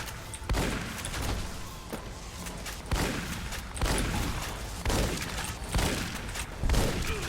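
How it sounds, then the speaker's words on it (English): Hunting shotgun fired repeatedly in Fallout New Vegas, several heavy booming blasts at irregular intervals over a dense, loud background of game combat noise. "time to bring out the"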